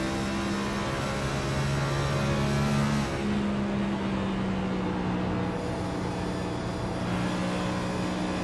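The number 27 race car's engine drones at high revs in a racing game's on-board view, a steady loud roar with a brief shift in pitch partway through, and no voices.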